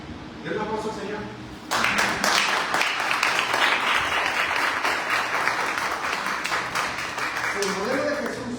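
Church congregation applauding during a Spanish-language sermon, clapping that bursts in after a brief spoken moment and continues steadily, with a voice heard over it near the start and end.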